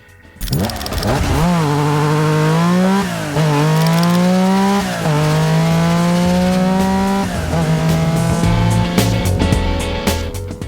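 A Porsche 718 Cayman GTS 4.0 engine revs hard and pulls away, rising through several gear changes with a loud, close, sustained roar.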